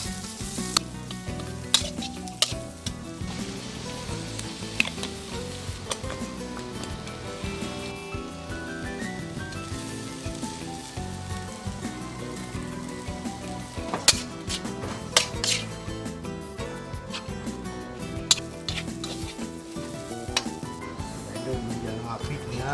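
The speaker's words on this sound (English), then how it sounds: "Oh, we're adding the carrots and the onions and quick." Carrots, onions and chili fry in a pan with a dense, continuous sizzle, dotted with clinks of utensils against the pan, and voices talk faintly in the background.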